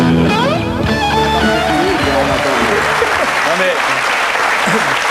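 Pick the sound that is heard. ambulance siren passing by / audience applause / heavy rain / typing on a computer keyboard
audience applause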